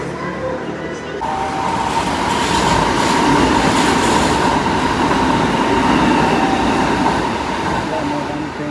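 Train running at a station in Osaka, a loud, steady rumble of wheels and carriages with a sustained tonal hum and faint rail clatter, close and continuous throughout.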